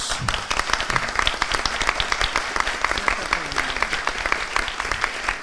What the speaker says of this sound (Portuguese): E os aplausos